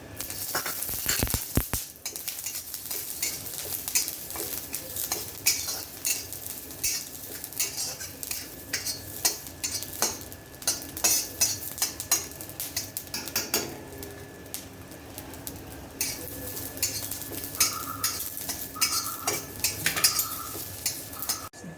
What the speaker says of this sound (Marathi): आपण आता मिरच्या भाजून घेऊ. त्यातच आपण हा लसूण पण टाकू.